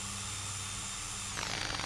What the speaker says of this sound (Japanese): ドリルの電源を入れる。